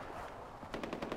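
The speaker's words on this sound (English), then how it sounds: "There's a lot of gunshots happening here." Gunfire in the video game Far Cry 4, a rapid burst of automatic shots in the second half, fairly faint and distant over a low background rumble.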